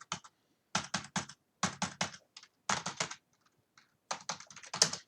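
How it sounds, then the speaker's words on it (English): Bursts of quick typing on a computer keyboard, clusters of crisp close key clicks separated by short pauses, clear and fairly quiet, with no talking. "So I'll type that into the chat."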